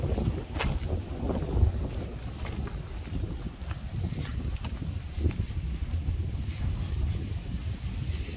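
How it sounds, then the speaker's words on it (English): Gusty wind blows steadily at an outdoor pool, rushing and buffeting close to a handheld microphone with constant low rumble and occasional stronger gusts, no talking. "Bit blustery that wind."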